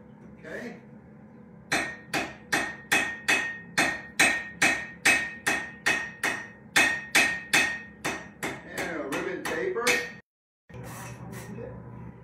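Blacksmith hammering hot steel into a ribbon taper on an anvil: about twenty sharp, ringing blows in a steady rhythm, close and loud, followed by a brief pause and a quieter scuffle.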